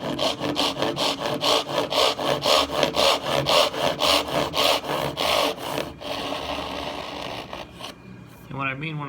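A hand saw cuts half-blind dovetails in wood for piston-fit drawers, giving a fast steady rhythm of close, loud back-and-forth rasping strokes that stops partway through. A voice speaks over it near the end.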